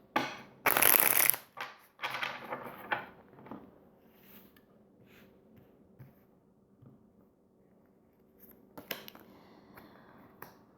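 Dixit cards being shuffled and drawn from a deck, a loud close riffle burst at the start, then softer flicks and slides of cards in a quiet room, with a sharper snap near the end.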